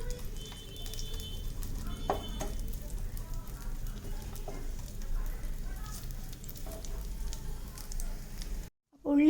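Sliced onions sautéing in a spoonful of fresh oil for vegetable dum biryani give a steady, close sizzle with stirring scrapes, a voice talking over it, and a brief cut to silence near the end.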